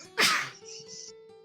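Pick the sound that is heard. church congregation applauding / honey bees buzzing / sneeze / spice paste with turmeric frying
sneeze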